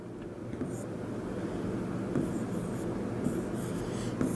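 A pen scratches quickly across paper while a maths solution on prime factorisation is written out, making a close, continuous scribbling with small taps and strokes, alone and without talk.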